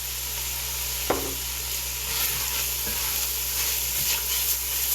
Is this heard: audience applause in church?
no